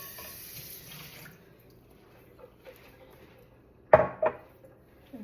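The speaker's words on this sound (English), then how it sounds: "Then we're going to rinse this" A kitchen strainer is rinsed under the tap, with running water early on, then a quiet stretch and two sharp metallic knocks and splashes close by.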